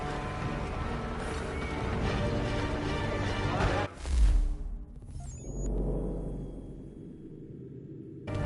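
Video game horses neigh and clop their hooves over a loud, busy game soundscape, followed by a whoosh and a quieter stretch.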